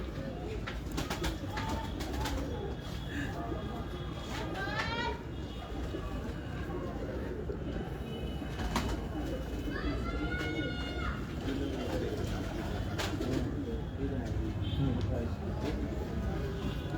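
Several pigeons coo in repeated soft, rolling phrases close by, while people talk over them and a busy background murmur carries on throughout.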